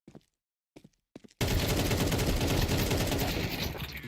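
Video game match gunfire: a few short sharp reports, then a sudden unbroken stream of rapid shots that keeps up loudly to the end.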